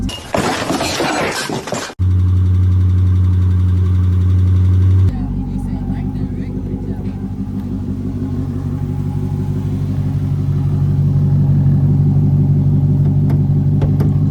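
A wrecked Dodge Challenger R/T with a 5.7-litre engine and a pistol-grip shifter idles close by with a steady, loud, low rumble after a brief burst of harsh broadband noise at the start.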